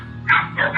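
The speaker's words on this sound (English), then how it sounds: "several dogs suddenly become agitated, barking frantically at the passing figure" Several dogs bark in frantic, overlapping bursts on a quiet street late at night, two loud barks close together, picked up on security camera audio.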